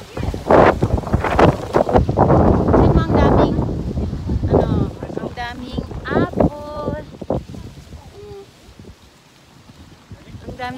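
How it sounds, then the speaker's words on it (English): Gusty wind buffets the microphone in loud, rumbling bursts at an apple orchard while a person speaks and chatters over it throughout. "It's windy, sweetie. My love ko, it's windy."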